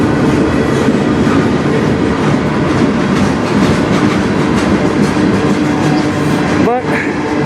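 A CN freight train rolls past at night in Sarnia, Ontario, a loud, close, continuous rumble with rail noise throughout and a brief squeal near the end.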